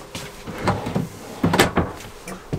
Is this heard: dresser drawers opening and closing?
yes